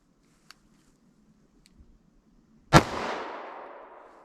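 A single sharp gunshot from a short-barrel 9mm +P pistol during a ballistic velocity test, loud and close, with a long decaying outdoor echo after near-silence.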